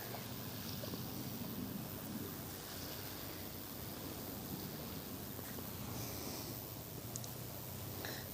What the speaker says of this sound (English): we got another inland ship approaching as well over there